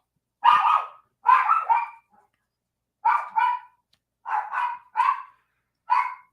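Puppies bark in short, sharp bursts, mostly in pairs, about nine yaps spread over several seconds with pauses between, fairly close and clear with no talking.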